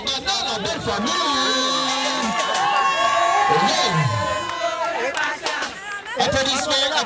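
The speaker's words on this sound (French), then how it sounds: "Je veux entendre les Yakuba applaudir plus fort." Wedding guests applaud and cheer for the bride, a loud, steady crowd roar with whoops and chatter, while an amplified voice speaks over the noise.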